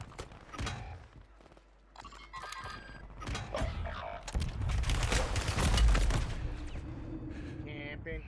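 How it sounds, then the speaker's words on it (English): A mortar strike in a Call of Duty Warzone Resurgence match: heavy, booming explosions and rumbling impacts build up and hit hardest near the middle, over in-game gunfire and effects, with a voice speaking at times. "Friendly mortar strike inbound."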